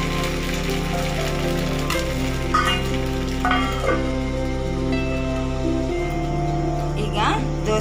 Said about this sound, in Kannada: ಈಗ ದೋಸೆ ಫ್ರೈ ಆಗ್ತಾ ಬಂದಿದೆ